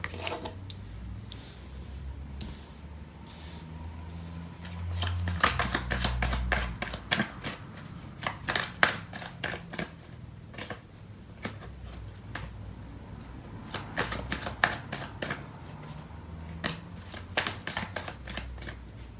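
Tarot cards being shuffled by hand, a dense run of crisp riffling flicks and soft card slaps in bursts across the whole stretch, close and fairly loud, with no talking.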